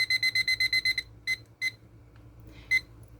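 A kitchen timer's alarm beeps in a fast, even run of about eight short pulses, pauses, then sounds three more isolated beeps, close and clear with no talking.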